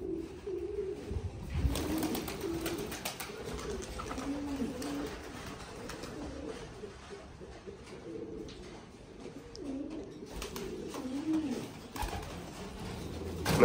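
Pouter pigeons and their chicks giving soft, low, repeated coos in a loft, close and fairly quiet, with a few rustles and wing movements between calls and no talking.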